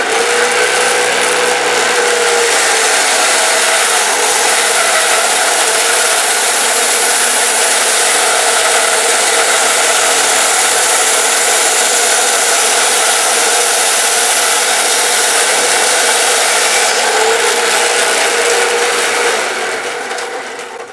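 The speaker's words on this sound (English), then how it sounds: "The bandsaw works great for things like this. You've got a big rock here. We'll cut that right off." A diamond bandsaw cuts through a large chunk of coral rock with a steady, loud, close-up whine and hiss that holds for about twenty seconds before tapering off at the end. No one talks.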